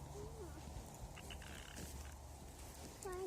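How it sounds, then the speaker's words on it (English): Outdoors, a frog croaks faintly a few times over steady background noise, with short chirpy calls near the end. "I hear a frog"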